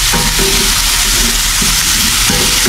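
Tomatoes and other ingredients sauté in a frying pan, giving a loud, steady sizzle with occasional stirring scrapes. No one speaks.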